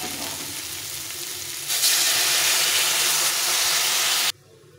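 Hot water hits a pan of frying bitter gourd and potato, the steady sizzle jumping into a loud, bright hissing roar of steam that cuts off sharply.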